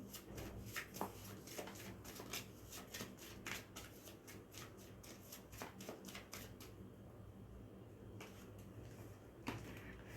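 A tarot deck being shuffled, with a steady run of close, crisp card riffles and flicks followed by a few softer single card sounds as a card is drawn; no talking.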